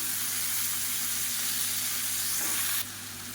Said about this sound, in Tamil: இப்போ கத்திரிக்காயும் உருளைக்கிழங்கும் சேர்த்து நல்லா வதக்கியாச்சு